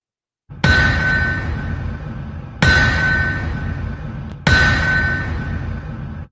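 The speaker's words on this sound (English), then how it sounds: "That is the sound of the anvil." Three loud metallic anvil clangs with long ringing tails, each struck about two seconds apart and left to decay, with nothing else audible.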